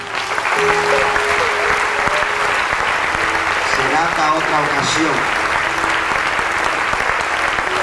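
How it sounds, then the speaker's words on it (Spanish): A church congregation claps in praise during an evangelistic service, sustained loud applause from a full room with a voice speaking over it and a few sung or called-out tones. "Dale un aplauso al Señor."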